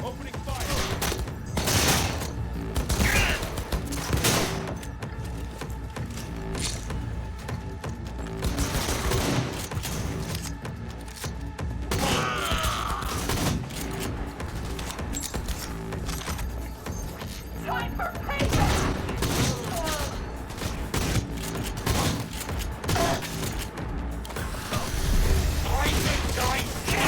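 Heavy gunfire from a Cyberpunk 2077 firefight, dense bursts and rattling volleys running throughout at close range, with game voices and mechanical clatter mixed in.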